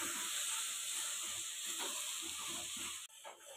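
Banana flower with turmeric, coriander powder, chili powder and garam masala sautés in a pan, giving a steady loud sizzle and hiss with faint stirring scrapes, briefly dipping near the end.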